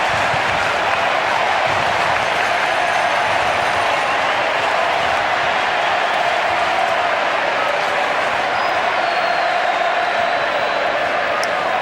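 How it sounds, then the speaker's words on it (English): Large football crowd at the Sydney Cricket Ground during a 2003 Anzac Day Swans versus Melbourne match, a dense, steady roar of chanting and cheering that never lets up, with a commentator's voice mixed in. "Sounds like a cricket crowd here at the SCG as they chant for the fast bowler."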